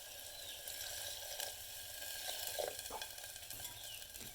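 Cassava leaves simmering in a pot after water is added, giving a soft, steady bubbling sizzle with occasional stirring scrapes, close and fairly quiet with no talk.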